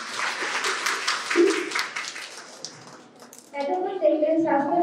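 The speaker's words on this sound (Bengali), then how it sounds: "সুন্দর নাটক উপস্থাপনার জন্য একটা জোরে হাততালি।" An audience claps after a student health-awareness play at a World Health Day seminar, with a burst of scattered applause in the first few seconds. The applause fades, and a speaker begins talking at the end.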